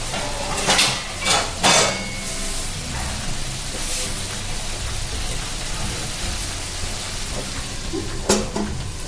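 Clanks and scrapes of metal cookware ring out as a lid goes onto a pan of raw green tomatoes, a few sharp knocks near the start and end over a low, steady sizzle.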